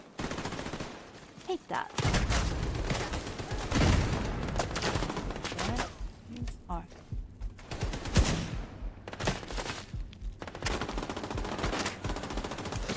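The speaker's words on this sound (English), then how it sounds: "I got no idea who's shooting at me." Enemy gunfire in The Division 2 rattles in dense, continuous automatic bursts with overlapping shots for most of the span. A player talks briefly over the shooting.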